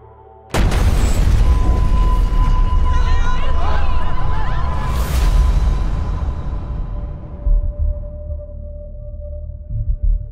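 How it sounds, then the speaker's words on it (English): A loud explosion bursts suddenly and booms heavily, then rumbles and slowly fades over several seconds, with a lingering tone and scattered crackles in the tail. "There was an explosion"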